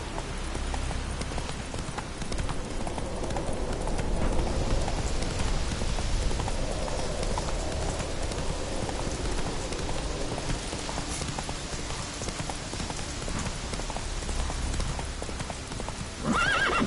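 Hooves of Roach, a horse in The Witcher 3, clip-clop steadily at a trot through heavy rain, the even hoofbeats and patter continuing throughout with a brief whinny near the end.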